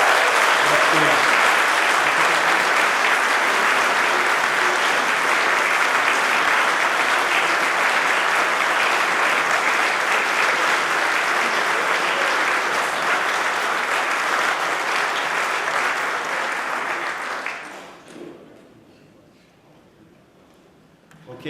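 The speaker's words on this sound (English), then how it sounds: "Round of applause." Sustained applause from a gala audience at a historical society celebration, a long steady roar of clapping filling the room for about seventeen seconds before fading out to near quiet.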